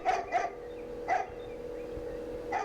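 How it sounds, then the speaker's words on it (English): A dog barks four times in short bursts, three close together and one after a pause, over a steady background hum. "I wish that dog would stop barking"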